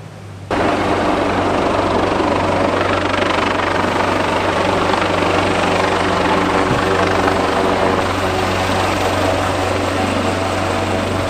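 A search and rescue helicopter hovers over a ship at a Rotterdam harbour event, its rotor and engine making a loud, steady, unbroken drone with a deep low hum underneath.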